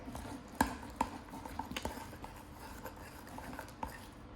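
Slime made with Elmer's glue being mixed, a close, quiet series of irregular clicks and taps of a utensil against a container, sharper at first and then softer and sparser.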